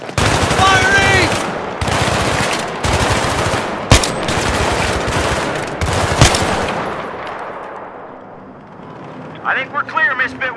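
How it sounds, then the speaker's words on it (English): Dense gunfire from Battlefield 3 during a street fight, sustained automatic bursts with sharp shot transients, loud and continuous for about eight seconds, then fading before a brief burst of shouted voices at the end. "Firing!"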